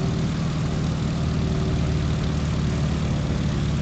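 Steady, droning radial engine of a Stearman biplane held at cruise throttle in Microsoft Flight, a continuous low rumble filling the whole stretch without talk.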